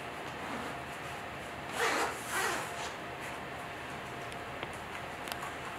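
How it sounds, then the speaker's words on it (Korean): A zipper pulled closed on a dog carrier backpack, two short rasping strokes near the middle of a quiet stretch, fairly close against a steady background hum. "이 상태에서 이제 지퍼를 올려주시면 돼요."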